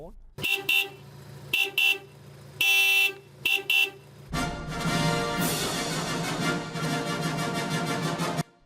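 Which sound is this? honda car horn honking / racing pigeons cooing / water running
honda car horn honking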